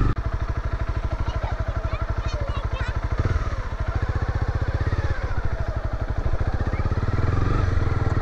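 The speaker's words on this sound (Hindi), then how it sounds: "यहाँ पे देखो 2 नंबर पे कितना मज़ा से चढ़ रहा है मेरा बाइक।" A Honda CB300R motorcycle climbs a hill in second gear, its engine a loud, rapid, even thrum with wind rush throughout, and a rider speaking over it in places.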